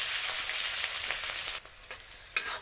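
Chopped green chillies, three red chillies and capsicum frying in hot oil give a steady, close bright sizzle with faint crackles, fading slightly partway through and ending with a sharp spatter burst.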